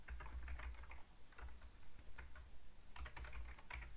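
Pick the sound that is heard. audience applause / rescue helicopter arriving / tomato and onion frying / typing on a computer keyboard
typing on a computer keyboard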